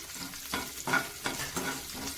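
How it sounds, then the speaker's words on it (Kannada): Cumin and curry leaves frying in a pan for pulao give a brief, busy sizzle broken by a few stirring scrapes, heard up close with no voices. "ಕರಿಬೇವು ಸೊಪ್ಪನ್ನು ಕೂಡ ಹಾಕ್ತಾ ಇದ್ದೀನಿ ನೋಡಿ ಸ್ವಲ್ಪ ಇದನ್ನ ಫ್ರೈ ಮಾಡ್ಕೋತೀನಿ"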